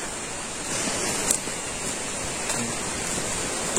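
Steady broadband rush of a clear-water river flowing past a village in a durian orchard area, continuous and fairly close with no talk over it.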